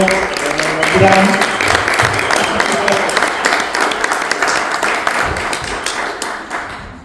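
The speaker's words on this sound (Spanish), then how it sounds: "le demos un aplauso" A live audience at a punk rock panel talk in Medellín's Templo del Rock bursts into sustained, dense applause to welcome a guest speaker. Voices carry on under the clapping, which fades gradually toward the end.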